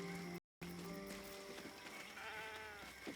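Sheep bleat repeatedly in Baldur's Gate 3, several wavering, nasal calls close by and fairly loud, one broken by a brief gap of silence, over a faint background.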